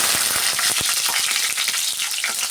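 Green chilies sizzling in hot oil for egg fried rice, giving a loud, steady crackling hiss broken by sharp spattering pops, with no voices.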